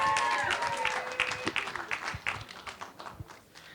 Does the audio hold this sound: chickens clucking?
no